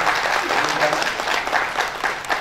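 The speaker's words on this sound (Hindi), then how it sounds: "एक बार जोरदार तालियों से" An audience at a business leadership seminar breaks into steady applause to welcome a guest, a dense, even wash of clapping that holds for the whole stretch.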